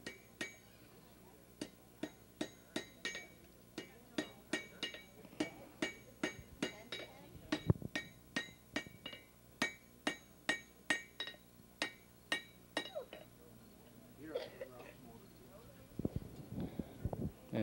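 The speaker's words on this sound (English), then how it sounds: "Now, he's got it red hot, and he's going to fashion it with his hammer." A blacksmith hammering red-hot metal at a Canada Day event in Sudbury, repeated ringing hammer strikes in a steady rhythm, fairly near, with someone speaking at the end.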